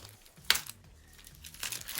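A plastic bag from a children's shapes puzzle kit is opened by hand, giving faint, brief crinkling and rustling bursts at close range with no voices.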